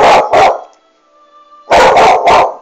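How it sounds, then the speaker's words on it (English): A dog barks loudly and close by indoors, two sharp barks followed by a pause and then three more in quick succession. "Crazy dog."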